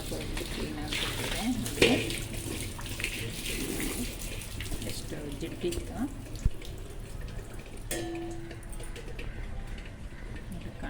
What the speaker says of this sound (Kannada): ಬಿಸಿನೀರು ಹಾಕಿದೆ ನೋಡಿ